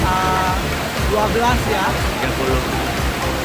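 Curug Lestari waterfall in Central Lampung, about 20 metres high with a fairly heavy flow, gives a steady rushing roar beneath a voice talking close by.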